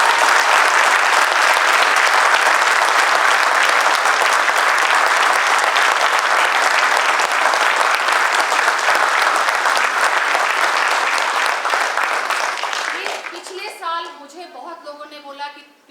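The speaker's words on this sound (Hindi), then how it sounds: "मैं चाहूंगी कि चंद्रहास तिवारी जी के लिए आप लोग जरूर तालियां" Audience applauding loudly and steadily at a theatre festival performance, sustained dense clapping that fades out near the end as a voice begins speaking.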